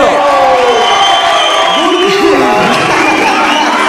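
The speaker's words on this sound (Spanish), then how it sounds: "Por favor, fuerte aplauso para el señor Gabriel Murillo." A live podcast audience claps, cheers and whoops loudly, a dense crowd roar with excited voices and shouts mixed through it, steady and close for the whole stretch.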